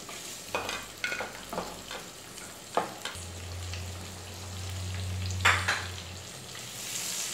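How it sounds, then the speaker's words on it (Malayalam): Onions sauté in a pan for chicken dum biryani: a soft, steady sizzle with repeated scraping stirs and a low hum running through the middle. "ഇനി ഈ ഉള്ളി ഒന്ന് നന്നായിട്ട് വഴറ്റിയെടുക്കുക"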